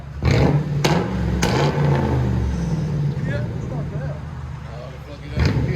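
A Mercury Grand Marquis 4.6L V8 fitted with glass packs blips its throttle twice up close, then burbles at a heavy idle before a final rev at the end.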